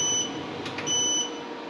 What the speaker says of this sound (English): The buzzer is annoying, I might have to turn that off.